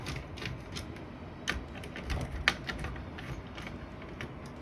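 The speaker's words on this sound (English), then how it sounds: "for the power supply, there will be 2 T10 screws. Just want to take those out." T10 screws are backed out of an original Xbox power supply, producing faint, close clicks and small metallic ticks in an irregular rhythm against a quiet background.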